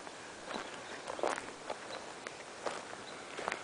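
Footsteps walk along a dirt road through a forest, making soft, irregular crunching steps nearby over a faint steady outdoor background.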